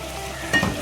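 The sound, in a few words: chicken and zucchini curry with yogurt frying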